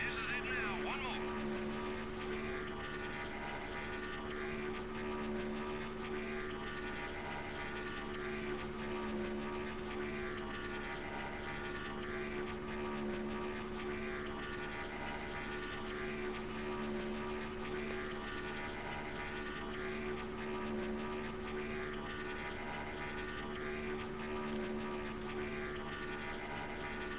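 NASCAR race car engine in NASCAR Thunder 2003, hot-tuned past 9,000 RPM, a continuous loud high-revving drone that holds steady throughout with little change.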